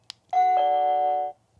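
Nest Classic chime from a Google Nest Doorbell 3rd Gen, a clean two-note electronic ding-dong, loud and close, with the second tone held smoothly for about a second before cutting off; no voices.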